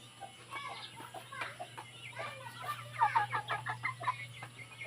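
Indio Giganti breeder chickens cluck in a pen, a steady series of short clucks growing busier and louder toward the end, over a constant low hum.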